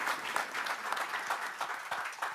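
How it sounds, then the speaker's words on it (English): Audience applause at a youth entrepreneurship panel fills the room as a steady, dense wash of many hands clapping, moderately loud and continuous, with no voices on top. "Round of applause."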